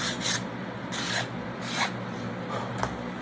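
Hand sanding a taper on a small wooden part for a Corsair model build, heard as a few rhythmic rasping strokes, close and moderately loud against a steady low hum.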